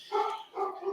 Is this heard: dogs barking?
yes